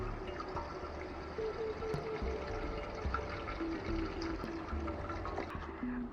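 Water runs steadily through a tube into the filler port of a pressurized camping shower tank, a continuous low rushing and gurgling flow at close range with no talking.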